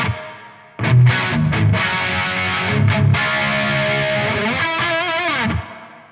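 An electric guitar through an ENGL Steve Morse Signature 20 tube amp rings out with reverb, several loud distorted notes and chords sustaining and washing together before cutting off near the end.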